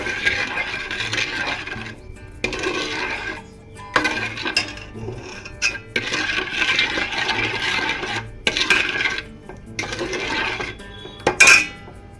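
Mango jam heating in a pot on a gas stove, with a spoon scraping and clinking steadily against the metal in repeated bursts, close and fairly loud.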